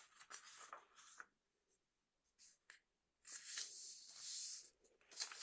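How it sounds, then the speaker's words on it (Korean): An A4 sheet of paper is folded in half with soft, close rustling and creasing in short bursts, separated by near-silent pauses and ending in a longer stretch of crinkling. "A4 용지 준비하시고요. 절반으로 먼저 접어줍니다."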